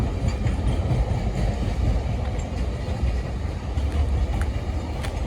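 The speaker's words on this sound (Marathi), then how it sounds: "ट्रेन चालले आता" A train rumbles steadily past close by, a continuous loud roar with faint rhythmic clatter of wheels on the rails.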